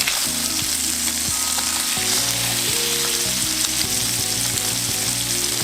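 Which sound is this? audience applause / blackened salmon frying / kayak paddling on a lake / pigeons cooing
blackened salmon frying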